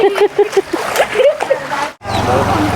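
Water splashes and sloshes close by in a flooded street during rain, with bicycles half submerged, while people talk loudly over it, ending in a brief cutoff followed by rushing water noise.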